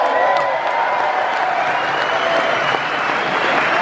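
Sustained applause from a large theatre audience at the Hammersmith Apollo, dense and steady throughout, welcoming Quadrophenia actors onto the stage for a Q&A.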